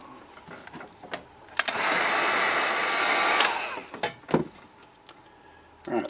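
A dryer blows on fresh paint on a crankbait fishing lure: a steady, close whooshing hiss lasts about two seconds, with small clicks and handling knocks before and after it.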